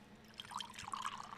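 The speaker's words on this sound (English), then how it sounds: "We're pouring this from a can." Tea poured from a can, a soft, trickling stream of liquid splashing into a cup, quiet and steady with small drips, no talking.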